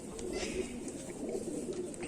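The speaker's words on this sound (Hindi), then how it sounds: "कांटों वाला कमगर कबूतर।" A Kamagar pigeon with ear tufts coos softly: low, throaty, continuous cooing, faint and close, over a quiet background.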